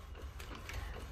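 A modified Epson ET-8550 DTF printer running a roll, giving off faint, quick mechanical clicks and whirring gear sounds in a short burst with no talking.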